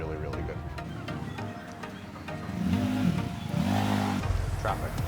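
Street traffic in Saigon moves past close by, with a busy wash of motorbike engines and two distinct revving passes rising over the din, while people talk nearby.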